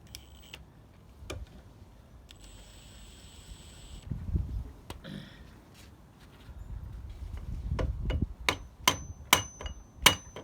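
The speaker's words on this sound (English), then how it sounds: "Hammer." Sharp metallic hammer blows strike a tapered bearing on a DB990 six-speed gearbox shaft, scattered at first and then coming in a quicker run of close, ringing knocks with quiet pauses between.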